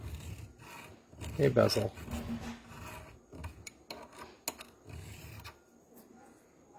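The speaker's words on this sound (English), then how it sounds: "I'm not hurting my file, but I'm filing around it" A metal file rasps around a steel bezel shot die in short uneven scraping strokes, loud and close, with a person talking over part of it.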